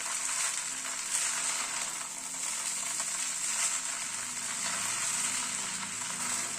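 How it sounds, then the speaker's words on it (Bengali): Garlic rice noodles frying with sauce being mixed through them: a steady, loud hiss of sizzling throughout, with soft stirring movements underneath. "সসটা দিয়ে পুরো নুডলসটার সাথে মিশিয়ে নিচ্ছি।"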